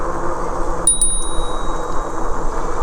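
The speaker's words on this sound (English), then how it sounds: "now it's time for the bell test. I'm gonna test the bell out right now on this guy." Two quick rings of a bicycle bell on a Senada Saber Pro fat tire e-bike, sharp and loud over steady outdoor riding noise, with a faint third ring trailing after.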